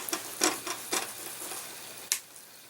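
A knife cuts into a cooked beef pot roast fresh from the oven, giving a few soft, close scraping strokes against a quiet background, with a sharper stroke near the end.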